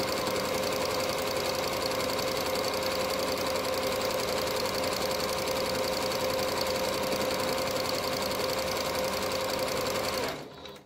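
A home sewing machine runs a narrow zigzag stitch through stretchy knit fabric, whirring continuously with a fast mechanical rhythm for about ten seconds before stopping abruptly, no voices.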